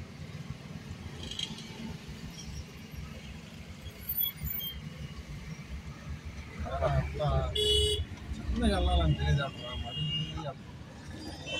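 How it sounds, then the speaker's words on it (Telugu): Heavy city traffic in Hyderabad rumbles past a moving vehicle making a U-turn, with short car horn toots and honks rising near the end while people talk. "ట్రాఫిక్ భయంకరంగా ఉంది."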